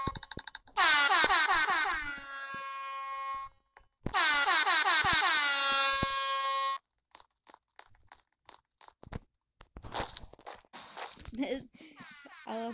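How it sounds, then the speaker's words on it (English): Two long, loud blasts of a blaring air horn, each about three seconds, followed by scattered clattering and crunching noises, in the video game Attack On Albert. "Is that an air horn sound?"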